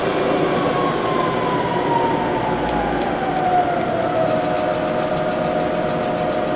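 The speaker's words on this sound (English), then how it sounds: "Use cutting oil and ream your hole." Low steady machine rumble with a slowly falling tonal whine as a reamer with cutting oil runs at slow speed through a drilled metal hole, continuously throughout.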